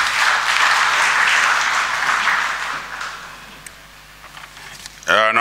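Applause for the Prime Minister at a Tanzanian launch event for electronic visa and residence permit services, a broad steady clapping that fades toward the end before a voice cuts in.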